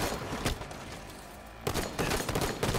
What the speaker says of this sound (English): Watch enemy fire!